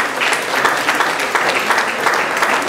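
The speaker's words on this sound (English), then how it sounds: "Please give them a round of applause." At a Caribbean Shrimp Festival launch event at a hotel, the crowd applauds warmly for two broadcasters, a steady wash of clapping lasting a few seconds with no talking.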